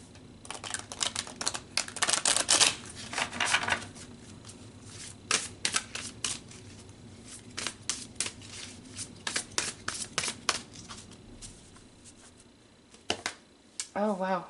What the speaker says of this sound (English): let's pull some more cards and go a little deeper into this message